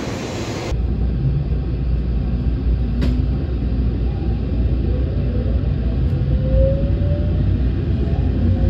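A Kodama shinkansen bullet train bound for Nagoya runs along with a steady, loud rumbling roar that fills the space, heard from inside, with faint rising whines partway through.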